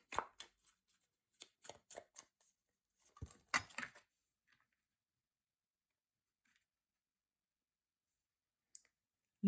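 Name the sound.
drawing tarot cards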